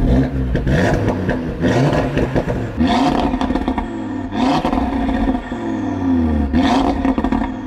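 A stock Audi RS3 revs hard on a dyno, several loud roaring surges climbing and dropping back, each separated by brief lulls, close and without talk.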